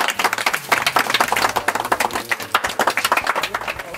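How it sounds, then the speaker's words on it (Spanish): An audience at a rural drinking-water project ceremony breaks into lively, sustained clapping, dense and close, with a few voices mixed in. "¡Aplausos, por favor!"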